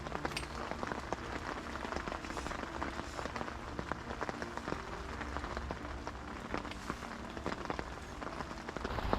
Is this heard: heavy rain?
yes